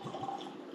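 Wine poured from a freshly uncorked bottle into a glass, a short, soft liquid trickle heard up close and alone.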